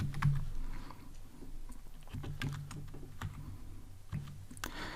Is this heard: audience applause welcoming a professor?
no